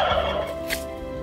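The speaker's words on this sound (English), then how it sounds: "The turkeys agree." A farmyard turkey lets out a single loud gobble close by, a short rattling burst over a quiet garden background.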